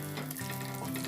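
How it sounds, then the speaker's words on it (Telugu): Almonds and cashews frying in ghee in a small kadai, a steady close sizzle with continuous crackling bubbles throughout. "వీటిని దోరగా వేయించుకోవాలి"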